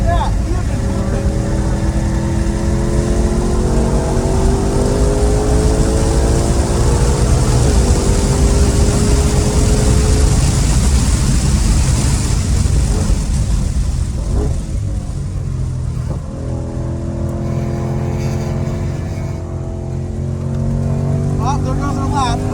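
Race car engine rising in pitch as it accelerates out of a corner on a track, loud and continuous throughout, with people talking over it.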